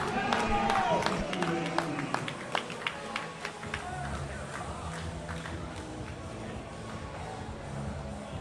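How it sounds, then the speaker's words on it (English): Hometown crowd at a girls varsity high school volleyball game in a gym, a steady roar of cheering with scattered claps and shouts throughout, continuous and moderately loud. "this hometown crowd is buzzing"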